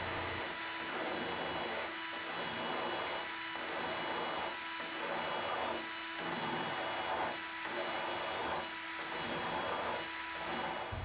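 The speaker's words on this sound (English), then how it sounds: "file away as I rotate the punch" A bastard file rasps against a steel pin punch that turns in a chuck and rests in a wooden V block, with about ten even strokes of quiet scraping over a constant motor drone.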